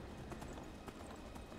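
Hooves of a Daedric Horse in Skyrim clip-clopping in a steady, even gait, fairly close and continuous, with no talking over it.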